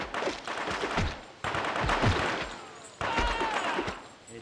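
Gunfire in the PS2 game Cold Winter: three loud bursts of rapid automatic shots with a heavy crackle, each about a second and a half long, and a faint voice under the shooting.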